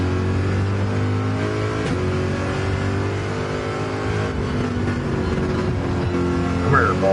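Race cars in a PS4 sim racing game against real drivers, engines droning and revving steadily throughout with a brief rising whine near the end, loud and continuous with faint talk underneath.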